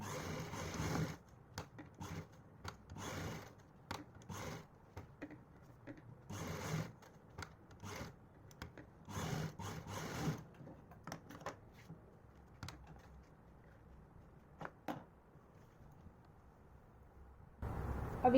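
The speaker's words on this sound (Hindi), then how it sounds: "अब हमें इस इलास्टिक को ऐसे लेना है और इस पर सिलाई लगा के इसको पक्का कर लेना है" Sewing machine stitching half-inch elastic onto palazzo fabric, running in repeated short bursts with brief pauses between them, close and fairly quiet, with no talking.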